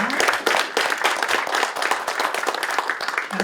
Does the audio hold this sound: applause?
yes